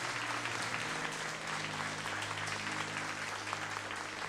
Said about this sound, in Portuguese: Então aplauda ao Senhor e glorifique o seu nome.